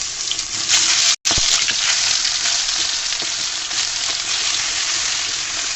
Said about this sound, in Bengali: টমেটোগুলো ভাজা হয়ে গিয়েছে, লাল লাল করে ভেজে নিয়েছি।